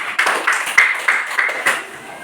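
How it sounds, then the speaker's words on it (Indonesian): Classroom of young pupils clapping for a student group after their presentation, a short, uneven patter of hand claps with a few louder individual claps, fading out toward the end. "Tepuk tangan untuk kelompok 2"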